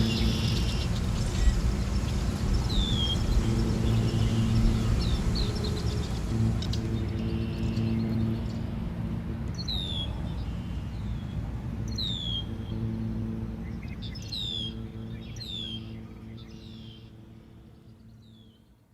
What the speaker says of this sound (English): you'll get face to face with a red-winged blackbird